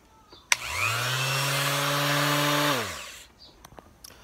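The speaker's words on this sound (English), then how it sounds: "I'm gonna sample out my new sander and see how it goes." A new Ryobi power sander starts with a sharp click, whirs loudly and steadily at close range for about two and a half seconds, then winds down and stops, followed by a few faint clicks.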